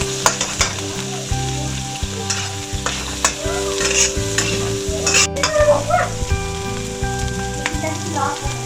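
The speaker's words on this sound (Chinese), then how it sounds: "一起翻炒。" Dried shrimp and shiitake mushrooms crackle and sizzle in a hot wok as they are stir-fried for turnip cake, with steady frying hiss and intermittent scraping clatter of the spatula, close and continuous.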